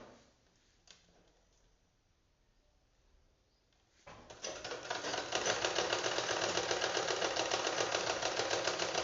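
A sewing machine stitches tassels onto a saree, running loud and steady with a fast mechanical rhythm after a quieter stretch of faint handling sounds.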